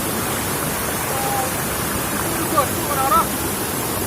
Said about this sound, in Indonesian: Kita sudah berada di air terjun Alusimanto.